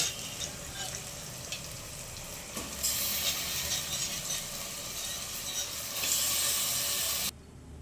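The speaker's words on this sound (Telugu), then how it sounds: "చికెన్ వేసుకోవాలి." Chicken frying in a hot pan for a curry, giving a loud, steady sizzle and hiss throughout that swells briefly as the pieces settle and stir, with no talking.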